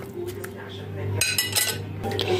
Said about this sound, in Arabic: هنزل بالسمك الفيليه كله، ده كيلو من السمك الفيليه، وهنبتدي ان احنا نقلبه